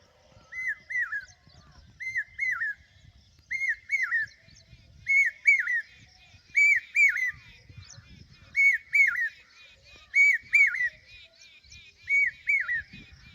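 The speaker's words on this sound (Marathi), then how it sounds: "ते पावशा पक्षी नक्की कसा असतो ते तुम्हाला दाखवतो आता" A common hawk-cuckoo calls about a dozen times, each a clear, loud, high whistled phrase of rising notes repeated at a steady rhythm, with faint low background noise between calls.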